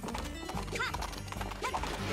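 A horse whinnies twice over a steady clip-clop of hooves in Princess Peach Showtime!, the sounds layered and fairly close, with game-like music or effects in the background.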